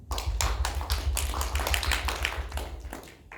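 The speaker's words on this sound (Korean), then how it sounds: "고3 학생들을 위해서도 함께 격려 박수하겠습니다" A high school church youth group claps together at a Sunday service to cheer on final-year students, a loud, dense run of overlapping hand claps that keeps going for several seconds before thinning out.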